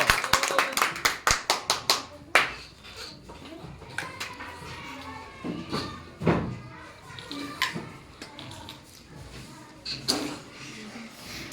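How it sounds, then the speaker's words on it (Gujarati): Children and adults applaud a balloon-inflating and cup-lifting game player with a quick burst of hand claps that tapers off, followed by chatter, a few scattered claps and knocks. "ચલો જોરદાર તાળીઓના ગડગડાટથી વર્ષાબેનને વધાવી લો."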